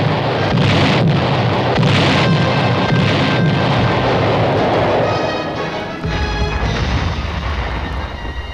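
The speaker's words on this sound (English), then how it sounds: "Having called for artillery fire, the observers stand by." Artillery batteries firing during military training, heavy booming blasts rolling in repeatedly at about one-second intervals, followed by a lower continuous rumble as the barrage fades.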